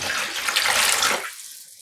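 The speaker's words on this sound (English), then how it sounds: "And I'm adding in 2 liters of water and another liter." Water poured into a pot to soak yarn, a close, bright, splashing stream that runs steadily for about a second and then cuts off abruptly into silence.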